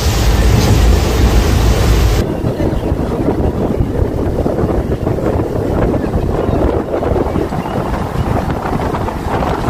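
Steady loud rumble and clatter of a local passenger train running from Katwa to Bardhaman, India, heard from onboard, with wind buffeting the microphone throughout and no clear speech.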